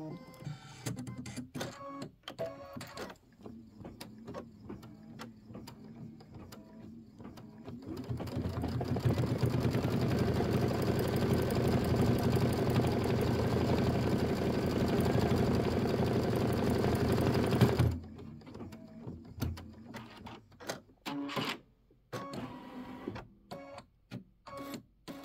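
An embroidery machine stitches three eyelets in blue thread for a Kimberbell Nativity bench pillow, a steady, loud mechanical whirring and rapid stitching that runs continuously for about ten seconds in the middle, with quieter handling clicks before and after.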